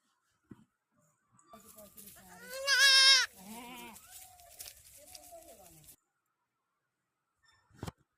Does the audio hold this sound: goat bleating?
yes